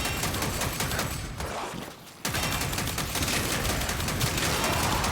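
Sustained rapid gunfire from guns in the shooter Warframe, a loud continuous fusillade that briefly drops off to near silence before the shooting resumes at full intensity to the end.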